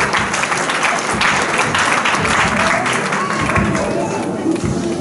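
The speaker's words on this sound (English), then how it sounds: "Please, let's clap for Mr." A church congregation claps for the chairman during a service, loud continuous applause with a crowded, lively texture and voices mingled in.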